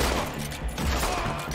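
Rapid pistol gunfire in Red Dead Redemption 2 during a dual-wielding fight with a volcanic pistol and a smaller pistol, a dense burst of overlapping shots filling the moment, loud and up close.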